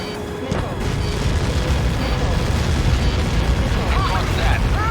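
Missile strike explosion in the air combat game Ace Combat 7, a sustained loud rumbling blast roar that swells and rolls on for several seconds, with warning beeps and radio chatter layered over it.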